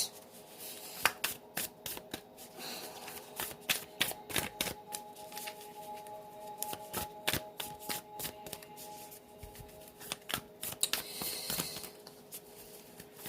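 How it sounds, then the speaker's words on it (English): A spirit animal oracle card deck is shuffled by hand up close: quick crisp riffles and flicks of cards in uneven bursts, with no talking. "we're going to get you a spirit animal oracle card and see what comes out"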